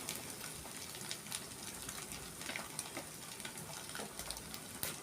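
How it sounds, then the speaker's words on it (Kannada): Grated coconut fries in a pan with drumstick leaves, giving a steady, close sizzle dotted with small crackles and pops throughout, with no voices. "ಇದನ್ನು ಚೆನ್ನಾಗಿ ಫ್ರೈ ಮಾಡ್ಕೊಳ್ಳೋಣ."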